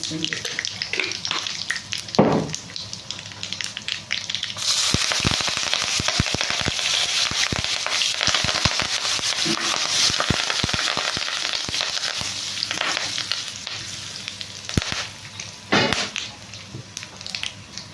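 Coarsely crushed small red onions fry in a hot pan, with a loud, dense sizzle that bursts up after a few seconds and crackles on steadily, punctuated by sharp clicks, before easing near the end.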